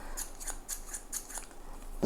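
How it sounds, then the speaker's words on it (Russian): Hobby Pro scissors with thick steel blades snipping in quick succession, about eight crisp metallic cuts in a steady rhythm, close up and fairly quiet, with no talking. "вот эти вот тоже очень такие удобненькие ножницы"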